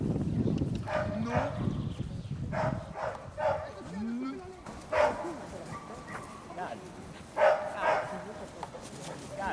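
Several short, sharp barks and yips from a herding dog ring out at intervals over a rumbling background, with a person's voice giving commands in between, in Normandy.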